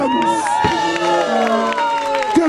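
Crowd cheering and clapping for a singer outside a Berlin bar during a live brass band set, with voices whooping and calling over scattered claps in a lively, close, loud burst.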